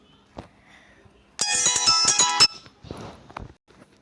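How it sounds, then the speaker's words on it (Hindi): An incoming call sets off a phone ringtone, a bright electronic melody lasting about a second, bracketed by faint handling clicks and rustles nearby. "फोन आ रहा है किसी का"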